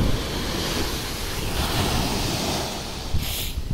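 Night sea waves roll steadily onto the beach at Gopalpur, Odisha, a loud continuous roar of surf with wind buffeting the microphone and a sharper wash breaking near the end.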